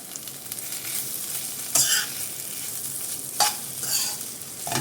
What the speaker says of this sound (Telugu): ఈ మసాలా మొత్తం ఈ ఆలూకి పట్టాలి కాబట్టి మీడియం ఫ్లేమ్లో పెట్టుకొని వీటిని ఫ్రై చేసుకోవాలి